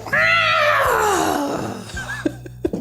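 A voice imitates an angry dragon waking up, giving one loud, drawn-out screeching roar that falls in pitch, then a couple of short sharp sounds near the end.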